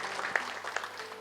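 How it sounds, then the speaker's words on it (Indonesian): Brief applause for God from a congregation during an online church worship service, a short patter of scattered claps without voices. "Come on, tepuk tangan yang meriah bagi Tuhan kita."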